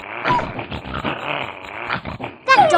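A cartoon dog in Martha Speaks growls and snorts over a stolen steak, a rough rumbling growl running for about two seconds before a brighter burst at the end, close and fairly loud.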